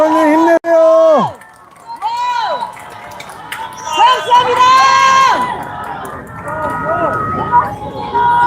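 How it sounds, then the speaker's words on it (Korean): A crowd at a political rally cheers and shouts in loud, rising bursts of voices and whoops, with brief gaps between the swells; chanting voices are mixed in, and clapping is barely evident. "큰 박수와 응원의 함성 보내주십시오"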